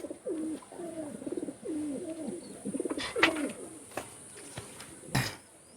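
Teddy pigeons, a Chinese Kamagar male and a Golden female at a Kolkata sale, coo in low, rolling repeated phrases close by, with a couple of sharp clicks or knocks breaking in near the end.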